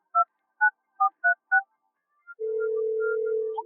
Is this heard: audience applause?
no